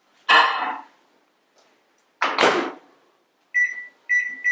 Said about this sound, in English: before we do another round of microwaving